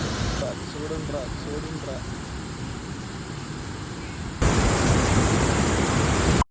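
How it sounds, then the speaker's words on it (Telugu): Water rushes through an opened dam gate in Kerala as a broad, steady roar that jumps louder partway through, with faint speech underneath. "ఇటుపక్క వాటర్ ఫ్లో, ఒక గేట్ తెరిచారు"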